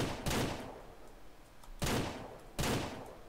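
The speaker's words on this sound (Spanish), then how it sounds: "Si son solo dos tiros los que necesitaba" Three loud gunshots in the ranch-building video game Ranch Simulator, each a sharp crack with a decaying tail, the first two about a second and a half apart and the third close behind, with no talk over them.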